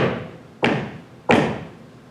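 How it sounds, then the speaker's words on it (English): A door is knocked on twice, each a loud, close, hollow thud roughly 0.7 seconds apart, ringing out briefly over a steady background with no voices. "goes up to his own house, knocks on the door"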